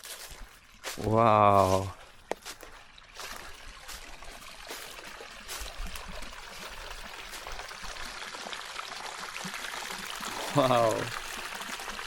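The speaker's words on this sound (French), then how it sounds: "Il y a de l'eau qui coule." Water trickling and pouring steadily through a forested 17-acre woodlot near Lac-Beauport, a soft continuous flow under two brief excited exclamations from a man.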